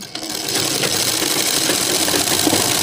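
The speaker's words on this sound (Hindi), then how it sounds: "इस तरह रखने के बाद हम इस पर सिलाई लगा लेंगे" A sewing machine stitches fabric pieces for a slip in a loud, close, continuous run of whirring stitches. No voices are heard.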